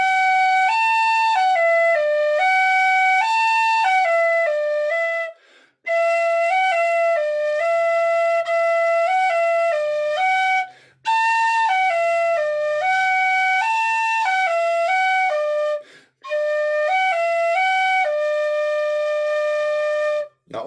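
Tin whistle playing a beginner's tune without ornamentation, bright clear notes moving in stepwise phrases, loud and close, broken by three or four short pauses for breath.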